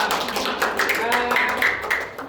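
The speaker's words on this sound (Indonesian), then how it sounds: "Terima kasih untuk kita tepuk tangan Pak Indra." A classroom audience of student teachers claps for a presenter during a micro-teaching lesson on the five senses, a dense patter of hands over about two seconds with voices mixed in.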